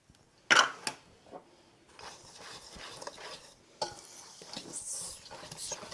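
Dry flour, sugar, baking soda and salt are whisked in a bowl: a sharp knock at the start, then a scratchy, rhythmic swishing that rises and falls, close and fairly quiet.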